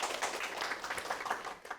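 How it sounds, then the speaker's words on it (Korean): A crowd applauds continuously at a travel concert talk, a dense wash of clapping that holds steady for the whole stretch before trailing off at the end. "박수 한 번만 주십시오."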